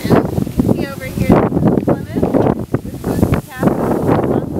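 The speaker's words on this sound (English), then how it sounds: "And it's really windy up here." Strong wind on the mountaintop of Garibaldi Hill, Montserrat, buffets the microphone in rough gusts while a person talks over it.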